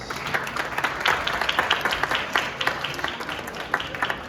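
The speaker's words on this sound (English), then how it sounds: "Please give them a round of applause" An audience at a university investment pitch competition applauds a finalist team, sustained dense clapping from many hands, fairly close and even, with a few voices faintly underneath.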